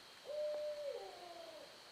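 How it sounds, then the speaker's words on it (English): A single owl hoot close by at night, one low sustained call that dips and trails off, heard alone over a faint steady insect-like hiss. "That owl is close."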